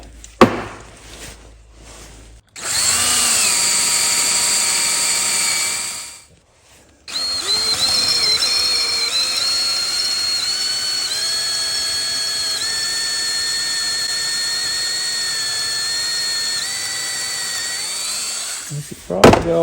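Power drill boring out a broken bolt in a mower deck spindle, a sustained steady whine running in two long bursts with a short pause between, loud and close.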